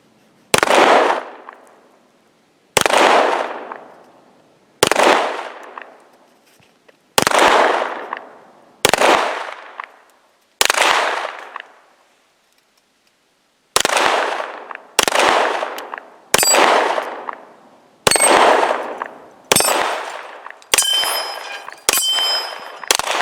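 Zigana Model F 9mm pistol fired at bottles on a range: twelve sharp, loud shots with ringing decay, an irregular series broken by a pause, ending in quicker shots with glass or metal pings.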